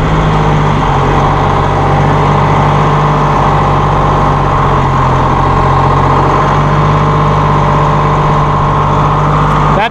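A Massey Ferguson 1740M compact tractor runs steadily through tight turns, its engine giving a loud, constant drone with a low hum and no pauses or talk.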